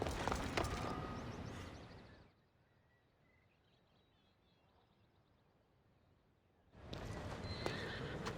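In Assassin's Creed Odyssey, a horse whinnies and hooves clop at the start, then near-quiet with faint ambient tones, before hoofbeats and snorting return loudly at the end.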